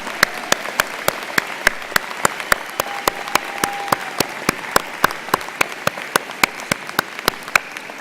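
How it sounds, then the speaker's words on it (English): At a College of Medicine commencement ceremony an audience applauds graduates, with steady clapping and a few louder individual claps standing out in regular beats. "Please join me in applauding the class of 2014"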